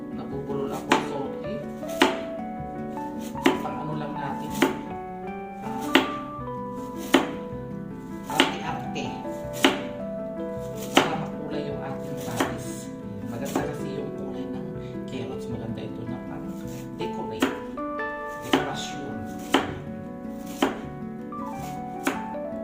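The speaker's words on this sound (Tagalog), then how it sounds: "nakat ko na yung cucumber at saka yung ating carrots" Knife chopping carrots and cucumber on a cutting board for pickled radish, a steady series of sharp, close thunks spaced about a second apart over a backdrop of music.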